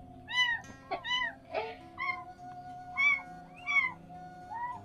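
A cat in a village in Indonesia meows repeatedly, about seven clear, close mews in a loose rhythm with brief pauses between, over a quiet rural background.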